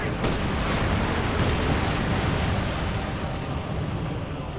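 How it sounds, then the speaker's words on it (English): An incendiary artillery barrage lands in a Company of Heroes match, a dense, continuous roar of rumbling explosions and crackling bursts that stays loud for several seconds. "we're actually seeing incendiary barrage going in again"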